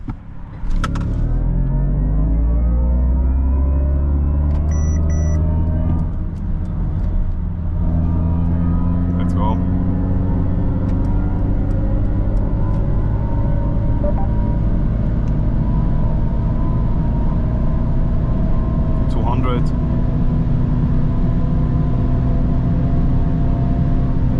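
Mercedes-AMG EQE53 electric car doing a race start on an unrestricted Autobahn, a loud rising electric motor whine climbing steadily in pitch over sustained road and wind rumble, with speech over it.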